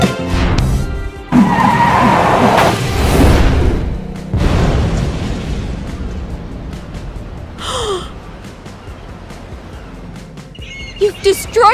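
A Lego car in a Lego City police cartoon skids and smashes up. Loud, rough crashing noise fills the first few seconds, mixed with gasps, then fades to a quieter rumble with a few brief, sharp effects near the end.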